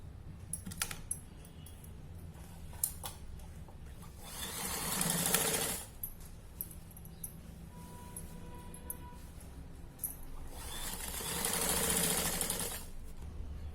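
A sewing machine stitches the waistband of a child's nine-yard sari, running in two sustained whirring bursts of rapid stitching with quieter clicks and handling of the fabric between them.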